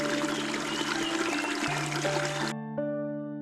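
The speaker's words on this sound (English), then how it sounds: "The cool music of flowing water." Steady rushing water pours and gushes continuously, then cuts off abruptly, leaving only a faint tonal hum behind.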